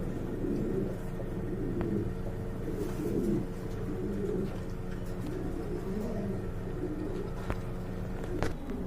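Low, murmuring coos from pigeons kept for sale carry on steadily under a constant rumbling background, with a couple of brief sharp clicks near the end.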